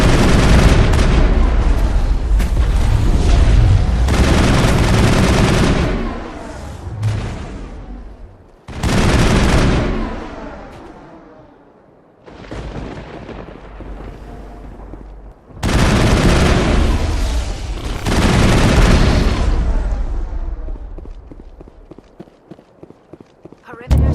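Gunfire crossfire in Mass Effect, with loud, dense bursts of shots and booms in three long spells separated by brief lulls, and voices heard between them.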